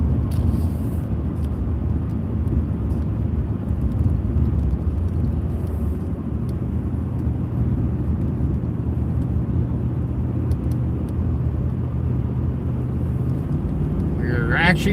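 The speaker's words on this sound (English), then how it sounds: "We're actually driving through the Ozarks" A car drives through the Ozark Mountains in southern Missouri, its engine and road noise forming a steady low rumble throughout while a person talks over it.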